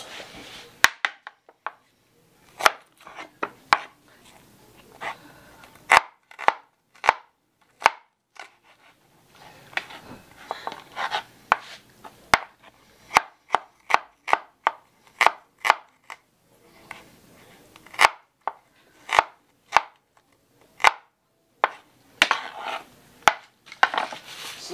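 Knife chopping ingredients on a chopping board while preparing lomi, with sharp, irregular cuts coming in bursts of quick strokes and short pauses, close and distinct with no talking.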